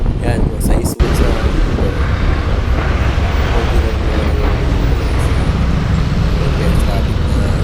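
City road traffic noise, a dense, loud rumble of cars and heavier vehicles heard close by, steady throughout after a brief gap near the start, with a voice faintly underneath.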